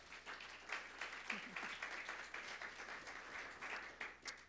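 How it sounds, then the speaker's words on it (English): Steady applause from a conference audience at a customer success summit, many hands clapping continuously at moderate volume with no voices on top. "give a round of applause for her for being here today"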